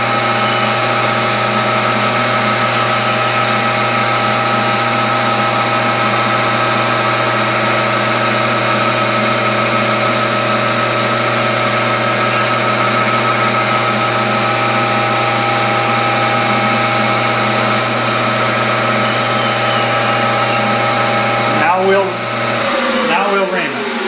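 Metal being drilled with a number 14 bit on a spool valve engine project: a loud, steady machine whine and hum holds evenly for over twenty seconds, then slows and cuts off near the end.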